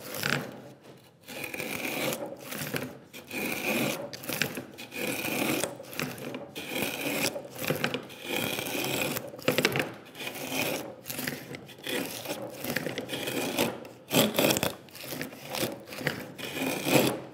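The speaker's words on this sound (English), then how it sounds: "I'm angling the router to pair cut across this final level." Hand router plane taking a paring smoothing cut across the wooden workbench surface: rhythmic rasping scrapes that repeat stroke after stroke, close and steady, with brief gaps between passes and no speech.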